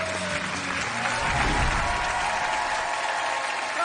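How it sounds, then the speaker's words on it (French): Studio audience on a French television hypnosis show bursts into sustained applause, dense even clapping filling the room at steady loudness for several seconds. "Je pense qu'il mérite une bonne main d'applaudissement"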